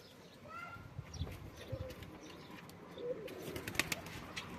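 Released pigeons coo and call softly at a distance, with brief wing flaps and faint chirps over quiet outdoor background noise.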